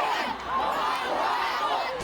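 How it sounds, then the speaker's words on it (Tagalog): A large crowd at an OPM music concert shouting a chant together, a dense roar of many voices at moderate distance, steady for a couple of seconds with no single speaker standing out. "Buhay na buhay din ang crowd na sama-samang sinigaw ang chant"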